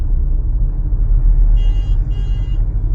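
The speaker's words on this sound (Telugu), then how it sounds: "భయంకరంగా ట్రాఫిక్ ఉంది" Heavy road traffic on a drive from Kerala toward Munnar: a steady low engine rumble of passing cars and trucks, with a vehicle horn sounding through the second half.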